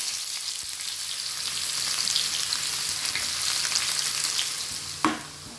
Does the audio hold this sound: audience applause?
no